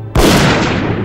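A single loud gunshot in a horror audio drama, a sharp blast with a long decaying reverberant tail, heard alone without voices.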